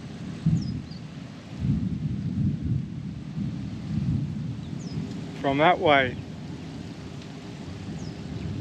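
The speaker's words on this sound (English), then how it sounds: "I think we might be getting our first storm." Distant thunder from an approaching storm rolls low and long beneath wind noise, with a brief spoken remark partway through.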